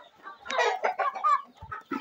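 Chickens cluck steadily at close range as they are fed vitamin-soaked bread and eggshells, with overlapping clucks and short calls in an irregular rhythm and a few soft thumps near the end.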